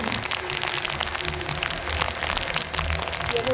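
Heavy rain pours down steadily in Calamba, Laguna, a dense continuous wash of drops holding at one level throughout, with no talk over it.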